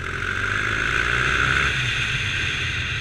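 Triumph Bonneville motorcycle engine running steadily while riding, a continuous even drone with a smooth hum and no speech.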